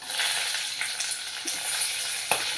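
Mustard seeds fry in hot oil in a pan, a steady loud sizzle with light crackling and popping throughout and no talking.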